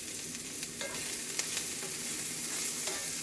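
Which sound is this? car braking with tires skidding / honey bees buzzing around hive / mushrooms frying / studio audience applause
mushrooms frying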